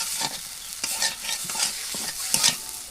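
Spices with turmeric frying in a pan over a village clay stove, a bright continuous sizzle with brisk, repeated stirring scrapes, close and fairly loud, with no one speaking.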